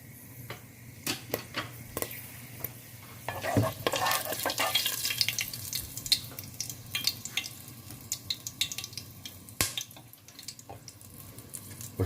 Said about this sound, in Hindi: इसमें हम सबसे पहले काली मिर्च डालेंगे 1 टीस्पून और 4 से 5 लौंग, और उसको 30 सेकंड्स के लिए भून लेंगे